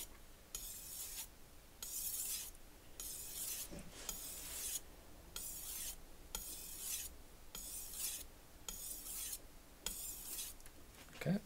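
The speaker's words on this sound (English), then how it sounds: "I just do these broad strops here. Okay, I'll do about 12, maybe 15, because this is a polishing stone." A Shun kitchen knife is stropped across a polishing whetstone in about a dozen broad, even strokes, each a soft close rasping swipe separated by brief pauses in a steady back-and-forth rhythm.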